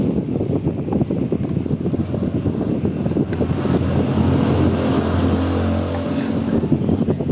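Strong wind roars steadily into the microphone with heavy buffeting and rumble throughout, and no clear speech.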